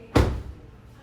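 A car door thuds shut once, close and solid, as someone gets into a Neta V2 electric car, with a short low decay and quiet cabin afterward.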